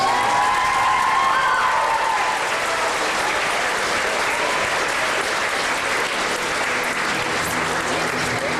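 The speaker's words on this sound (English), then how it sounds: "So I'd like to give you a warm applause for Kristopher." A large crowd gives sustained, warm applause at a public event in Belleville, Ontario, with dense, even clapping and some cheering that carries on loudly for several seconds.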